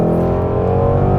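A 2016 Ford Mustang Shelby GT350R engine drones loud and steady from inside the car, a dense harmonic roar held under load for a brief stretch with no talking.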